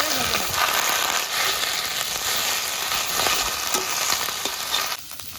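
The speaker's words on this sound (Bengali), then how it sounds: "এবার খারকুল পাতার সঙ্গে চার পাঁচটা কাঁচা লঙ্কা ভেজে নেব" Kharkul leaves and green chillies frying in hot oil with a pinch of salt hiss in a loud, continuous sizzle that eases off near the end.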